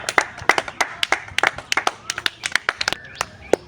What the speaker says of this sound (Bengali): সকলে জোরে হাততালি শহীদের জন্য